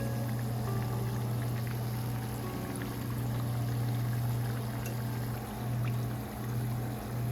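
Sweet chickpea-filled Italian cookies fry in hot oil, giving a steady, even sizzle and bubbling over a low constant hum, with no talk.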